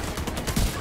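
Rapid gunfire from a weapon in The Division 2, a short dense burst of automatic shots at close range lasting under a second.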